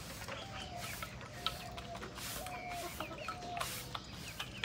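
Backyard desi chickens clucking while pecking at scattered rice on a farm, several soft overlapping clucks and short calls at moderate distance over a busy background.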